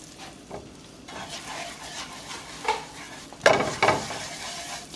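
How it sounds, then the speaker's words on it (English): Flour is stirred into sizzling melted butter in a pan for cheese sauce, a soft steady fry under scraping stir strokes that swell into louder bursts near the end, with no talk. "So to our melted butter, we're going to go ahead and add our flour."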